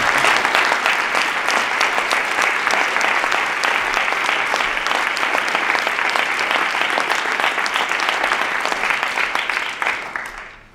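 Sustained audience applause at an anniversary evening opening ceremony, a dense steady clatter of many hands that holds for about ten seconds before fading at the end.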